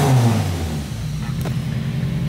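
A car engine rumbles steadily at idle, a low continuous drone that sits close and fairly loud throughout.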